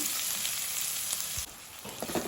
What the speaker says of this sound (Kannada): ಈರುಳ್ಳಿಯನ್ನು ಫ್ರೈ ಮಾಡಿಕೊಳ್ಬೇಕು